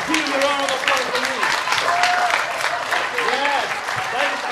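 Audience applause at a theatre performance, steady clapping heard under sustained voices and tonal sounds, fairly loud and continuous throughout.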